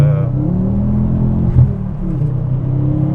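A Ford Focus RS Mk2 engine pulling hard from inside the car, a loud steady droning rumble with a brief surge partway through as the turbo comes on.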